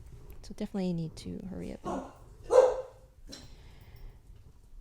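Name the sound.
dog barking in a garage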